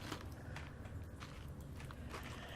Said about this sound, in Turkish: Ayak sesleri duyuyorum.